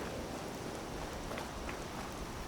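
Steady in-game rainfall during a rad storm in the video game Fallout 4 at Far Harbor, a constant soft hiss of rain with no voices.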